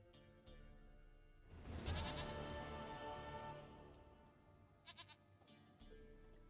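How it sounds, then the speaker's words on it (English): A goat in The Witcher 3 bleats in a loud, wavering cry near the middle. Quieter ambient game sounds and a few brief clicks follow, with no talking. "Goat of mine, dearest,"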